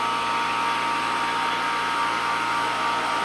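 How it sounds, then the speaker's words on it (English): A vacuum pump draws xenon gas out of a discharge tube, giving a loud, continuous mechanical whine and hum that holds steady throughout with no talking. "Let's let the pump eat some more xenon, blow some more precious gas out into the air."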